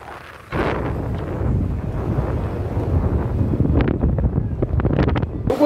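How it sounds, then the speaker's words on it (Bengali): Heavy wind and rain batter Digha beach on the seafront: loud, gusty wind roaring across the microphone in a steady rush, rising and buffeting in bursts, with the sea and rain beneath. "তুমুল বৃষ্টি এবং বাতাস শুরু হয়েছে"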